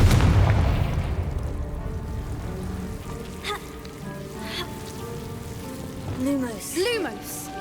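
In the Hogwarts Legacy video game, a Confringo fire spell hits with a low blast at the start, trailing into a crackling, rain-like hiss, with a voice speaking briefly toward the end.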